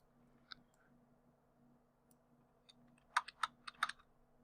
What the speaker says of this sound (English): I'm going to do on my keyboard Control W